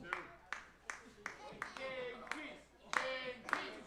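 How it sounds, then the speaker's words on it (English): Wrestling crowd at an indie rasslin show clapping in a slow, rhythmic beat of about eight sharp claps while a commentator keeps talking over it. "Crowd getting solidly behind the king piece here."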